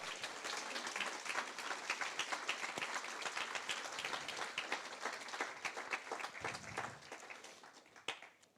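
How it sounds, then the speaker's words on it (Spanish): A church congregation claps steadily for several seconds, a dense sustained applause that tapers off near the end. "¿Alguien le puede dar un aplauso a Jesús por lo que Él hizo?"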